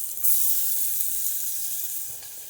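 Onions, garlic, shallots and ginger sautéing in a hot pan, a steady close sizzle with a brief stirring scrape near the end, no talk.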